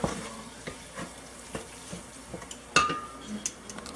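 A spoon stirs gumbo in a pot, with repeated soft scrapes and clinks against the metal and a sharper clank near the end. The sound is close and quiet, and no one speaks.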